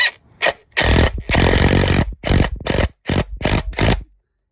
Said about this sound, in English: Let's hammer that up in.